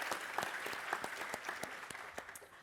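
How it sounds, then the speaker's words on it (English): Applause from a conference audience at the PASC22 welcome session, steady clapping with individual claps audible, at moderate distance and fairly quiet, fading slightly at the end. "So let's give everyone a big round of applause."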